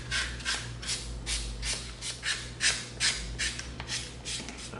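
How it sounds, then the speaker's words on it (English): A 220-grit sanding stick rubbed back and forth over EVA foam on a prop carbine, giving repeated short scratchy strokes in an uneven rhythm, close and fairly quiet, with no talking. "we're going to come in with the 220 sanding stick"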